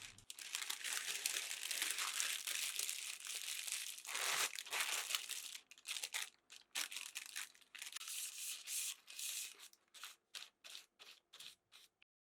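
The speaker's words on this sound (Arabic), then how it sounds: "بدنا نحط عليه ورق الزبدة" Baking paper is crumpled and pressed into a rectangular loaf mold about 23 by 9 centimetres, a close, continuous crinkling that turns into shorter rustling bursts toward the end.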